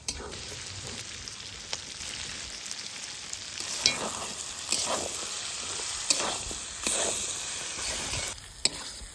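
Mutton trimmings with salt and turmeric sizzling in a pan for mutton ghugni, a steady close frying hiss broken by repeated scraping stirs of a spoon against the metal; no voices.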